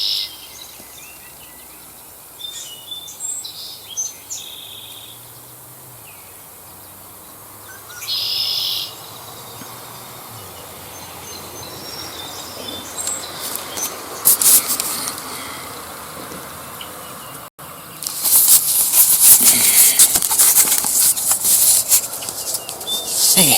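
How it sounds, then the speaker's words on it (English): A red-winged blackbird gives repeated raspy, trilling calls outdoors near a trail, starting faint with gaps, then growing louder and more frequent toward the end, mixed with rustling and handling noise. "It's a red-winged blackbird."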